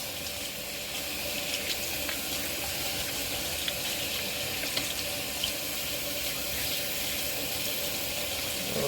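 Tap water runs steadily into a sink while brushes are rinsed under it, a continuous hissing flow that stays even and close throughout, with no talking.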